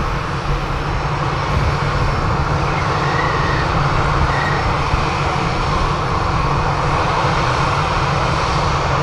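Airbus A320neo taxiing past at Manchester Airport, a steady loud jet engine roar that holds evenly throughout, close by and continuous with no voices.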